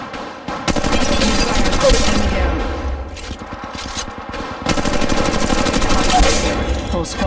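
Dense, continuous automatic gunfire in an Android battle shooter, loud and close, with rapid bursts overlapping and scattered louder blasts running throughout, barely broken by a short lull.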